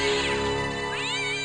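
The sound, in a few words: cat meowing in Broken Sword video game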